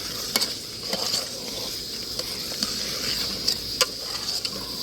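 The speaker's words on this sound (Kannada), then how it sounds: "ಸ್ವಲ್ಪ ಫ್ರೈ ಆಗಲಿ." Chicken sukka frying in a pan, a steady hiss of sizzling with a few sharp taps of a spoon against the pan, close and moderately loud, no voices.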